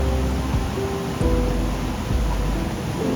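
A remote mountain stream spilling into a waterfall pool gives a steady, close rush of water, a dense unbroken wash of noise with no voices over it.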